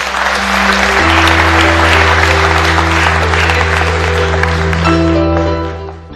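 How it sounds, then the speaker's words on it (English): Audience applause at the India Digital Open Summit, sustained clapping from a large crowd over a loud steady hum of music or amplified tones, tapering off near the end. "A huge round of applause,"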